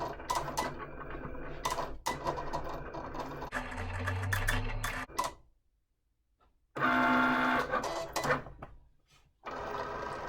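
A Cricut cutting machine writes text with a pen, giving quick rhythmic mechanical whirring and ticking bursts separated by short quiet pauses, close and clear with no talking.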